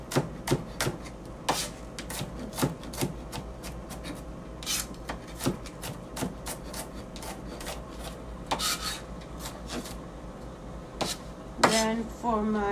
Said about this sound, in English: So I'm just breaking the garlics first, then I'm going to chop them up.